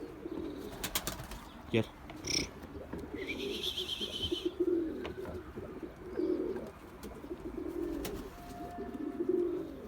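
Pigeons cooing steadily in a loft or yard, including a white bird with an injured wing that still flies, with a brief chirp and a wing flutter over low background noise and faint voices.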